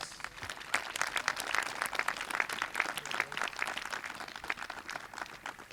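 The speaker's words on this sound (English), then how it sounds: "Give that group a round of applause" Audience applause at a college honors convocation, moderately quiet clapping from a seated crowd with a dense, continuous patter that rises and falls over several seconds.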